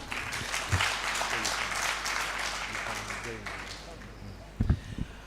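Clapping rises from the audience at a mining and energy conference, a moderate, steady patter of hands in a large room with a few louder bursts near the end.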